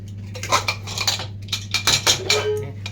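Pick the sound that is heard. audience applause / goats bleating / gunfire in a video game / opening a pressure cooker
opening a pressure cooker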